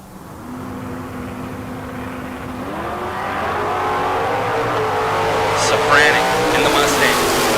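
Mustang and Camaro drag race cars at a bracket race, engines rising from a low idle drone into a loud building roar that swells toward the end, with an announcer talking over it.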